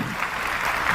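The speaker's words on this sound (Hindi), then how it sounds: "अब ये ताली फॉरेक्स के नाम पे है या अंबानी जी के नाम पे है?" A seated audience at a forex trading seminar claps in a continuous, dense burst of applause that stays steady and fairly loud for the whole brief moment.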